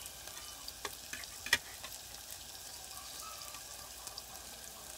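Garlic fries quietly in a pan, a soft, steady sizzle heard fairly faint with occasional light clicks and ticks from stirring.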